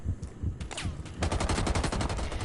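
Rapid gunshots in Rainbow Six Siege crack out in a quick, loud series of close bursts, with a short pause before a denser volley.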